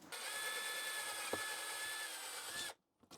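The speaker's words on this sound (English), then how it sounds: "there's a rivet right there. I'm going to have to drill that out." A power drill bores out a rivet securing the top cover of an IBM PS/2 E desktop computer case, a steady, loud grinding whine held for nearly three seconds before stopping abruptly into silence.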